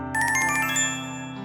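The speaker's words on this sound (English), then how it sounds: "Just before the elevator doors open, my phone starts to ring." A mobile phone ringtone chimes loudly and close, a bright electronic melody that plays for a moment and then settles into a steady sustained tone, with no one talking.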